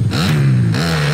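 A motorcycle engine in MX vs. ATV Legends revs up in a short burst, the pitch climbing, holding, then rising again, loud and close with no talk over it.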